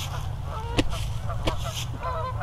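A flock of geese honks as it takes off over a ball field: a dense, continuous din of overlapping calls with a steady wash of wingbeats and background noise, and a few sharp clicks.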